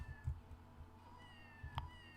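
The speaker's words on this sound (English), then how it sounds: "Ah! Cats! Evil cats!" Cartoonish cats meow in the video game Scribblenauts, a couple of short, faint mews over quiet game background sounds, with no speech.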